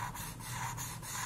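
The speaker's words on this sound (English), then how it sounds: "Let's see if we can just color this in, darken it in black with our marker." A black marker colors in a shape on paper with back-and-forth strokes, a soft rhythmic rubbing squeak repeating about every quarter second, close and quiet.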